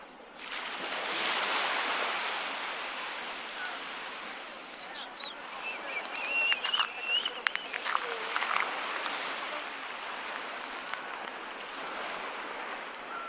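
Ocean waves wash steadily onto a peaceful beach on Langkawi island, a broad continuous surf hiss with gentle swells, while a voice speaks faintly over it.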